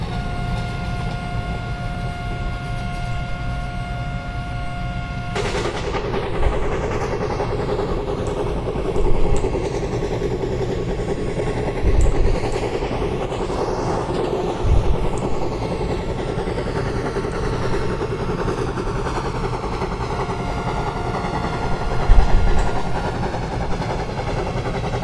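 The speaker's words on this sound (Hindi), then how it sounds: "चलो ले जाते हैं अपनी ट्रेन को फटाफट से 110 किलोमीटर पर आवर की मैक्सिमम परमिसेबल स्पीड पे" Express train running at speed in the Open Rails train simulator, a Gujarat Queen service: a steady, continuous rumble of engine and wheels on rail, with brief louder thumps every few seconds, no voices.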